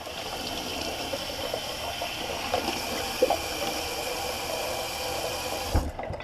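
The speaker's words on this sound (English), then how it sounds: "Just quickly going to just rinse the tub." Tap water runs steadily over a shaving soap tub being rinsed in a sink, a continuous close hiss with a few small knocks and splashes before it cuts off abruptly at the end.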